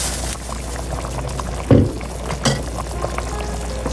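Water poured into a pot of chicken karahi makes a brief splash and sizzle under a constant kitchen roar, with a second smaller splash moments later.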